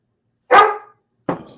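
A dog barks twice at a livestream host's home, two separate loud, close barks with a short gap between them and no talking over them.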